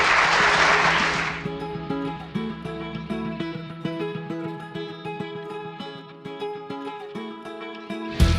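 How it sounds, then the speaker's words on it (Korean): Wedding guests in a hall in Icheon clap for the newly married couple, a short burst of applause that fades quickly as organ-like music continues alone. "제가 박수로 한번 여러분들 부부를 축하해 주시기 바랍니다"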